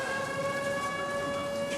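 An air raid alert siren sounds as a sustained, steady wailing tone with several harmonics, loud and unbroken throughout.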